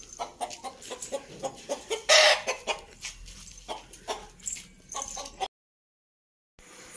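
A rooster bound for a country chicken curry clucks repeatedly at close range in short, rhythmic bursts, with one louder squawk early on, before the sound cuts out briefly.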